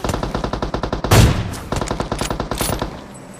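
Rapid automatic gunfire in a video game during an AWM sniper rifle fight at a squad house, about a dozen sharp evenly spaced shots with one heavier blast near the middle, loud and close, no talking.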